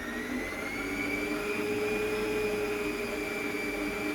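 A stand mixer kneads hamburger bun dough on its first speed, giving off a steady, loud motor whir with a faint high tone and no breaks.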